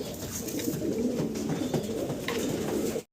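Pigeons at a seller's loft coo in soft, repeated low calls, close and steady throughout with no talking over them.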